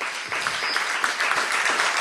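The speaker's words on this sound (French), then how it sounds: "vous pouvez l'applaudir." Loud, continuous clapping from a crowd at a French political campaign gathering, dense and steady with individual claps standing out over the roar.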